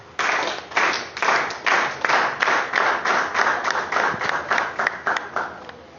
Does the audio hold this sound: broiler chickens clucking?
no